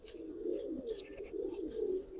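Giribaz pigeons coo in soft, repeated rolling phrases that run continuously with no talking, close by and moderately quiet.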